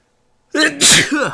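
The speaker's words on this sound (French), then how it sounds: "Donnez-moi un instant, il faut que j'éternue." A single sharp sneeze bursts out of silence, close and loud, with a short intake of breath before the explosive release.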